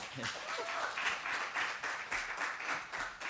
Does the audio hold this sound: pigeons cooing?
no